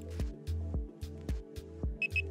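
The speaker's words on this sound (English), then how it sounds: "Each bleep indicates what sensitivity setting you are on." A Nash Siren R4 fishing bite alarm sounds a series of low, evenly spaced bleeps at a sensitivity setting, about five pulses in quick rhythm, ending with two short, higher chirps, close and clear.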